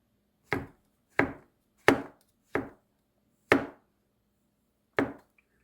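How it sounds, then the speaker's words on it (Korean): A knife slicing fresh shiitake mushrooms into thin strips on a cutting board: six crisp, close chops at an unhurried, slightly uneven pace, each a sharp knock that fades fast, with no voices. "그리고 채를 썰어요"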